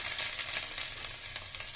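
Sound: chopped garlic frying in hot mustard oil in a wok

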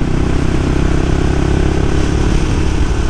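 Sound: Suzuki motorcycle accelerating

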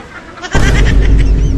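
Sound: turkey gobbling

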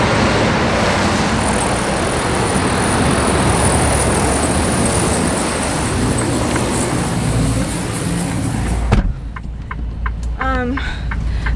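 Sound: truck driving slowly on winter road

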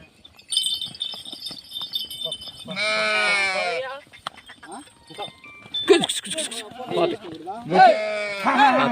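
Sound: sheep bleating

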